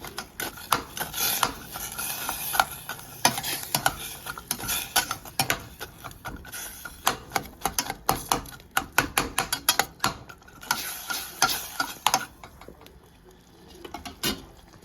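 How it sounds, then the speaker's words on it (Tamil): A spoon scrapes and stirs bread halwa in a metal pan, a fast, steady stream of clinks and rasping scrapes that continues with only brief pauses. "நல்லா கிளறி விடணும்."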